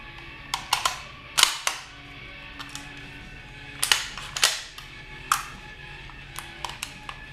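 Rifle bolt being worked close up: a series of sharp metallic clacks and clicks in uneven bursts, with some quieter taps between, no talking.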